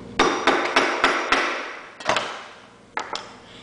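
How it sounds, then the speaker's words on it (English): A hammer pounds rocket propellant mix into a tube, loud sharp blows in an irregular rhythm, some doubled, with brief ringing decay between hits. "take your hammer and beat it in there some more"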